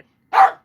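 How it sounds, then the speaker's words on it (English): A single sharp dog bark, close and loud, alone against silence. "I know when he's gonna bark"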